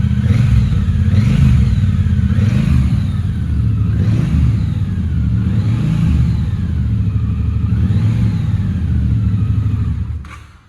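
A Triumph Speedmaster 1200cc cruiser motorcycle engine idles loud and close, its deep rumble swelling into a series of about five evenly spaced revs before cutting off at the end.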